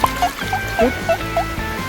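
Short splashy sloshes of water rinsing a small object dug from beach sand at a seaside bay in Krabi, several quick bursts in an irregular rhythm with a faint hum beneath.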